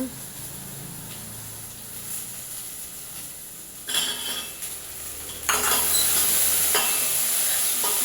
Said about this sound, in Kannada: ಒಂದು ಬೌಲ್ ತೊಗರಿ ಕಾಳು ಸ್ವಲ್ಪ ಹಸಿ ವಾಸನೆ ಹೋಗೋವರೆಗೂ ಫ್ರೈ ಮಾಡೋಣ